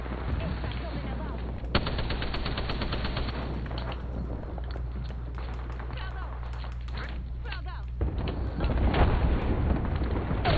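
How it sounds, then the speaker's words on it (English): Enemy gunfire in Apex Legends: rapid automatic bursts and single shots crackle throughout, louder near the end, with players talking over the fight. "I got people shooting me"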